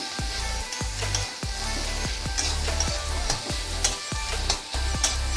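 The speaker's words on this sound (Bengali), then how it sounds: "ডিমটাকে ভালো করে ভেজে মশলাটার সাথেও মিশিয়ে দিচ্ছি।" Egg frying in masala in a pan for egg tarka dal, with steady sizzling and repeated scraping strokes of a spatula stirring it, close and fairly loud throughout.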